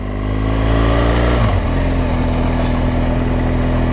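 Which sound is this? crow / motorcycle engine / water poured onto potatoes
motorcycle engine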